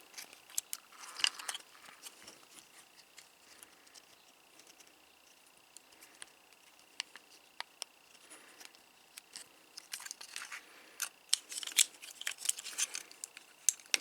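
Plastic parts of a Transformers Legacy United Wheeljack figure clicking and snapping as it is transformed, a close, quiet series of sharp ticks and ratchets at an uneven pace, growing busier toward the end.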